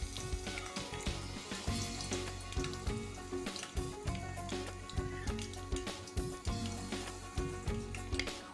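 Ghevar batter sizzling and frying in hot ghee inside a ring mold, a steady loud bubbling crackle with spoonfuls dropped in, close up and continuous.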